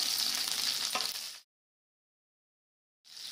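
Garlic and green chilli sizzle in hot oil, a close steady frying hiss that cuts out abruptly midway and returns faintly near the end.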